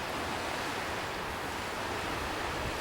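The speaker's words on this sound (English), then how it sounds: "And you can hear the ocean with it." A seashell from Mexico held to the ear gives a steady, even ocean-like whoosh, a continuous broadband rush with no breaks or voices.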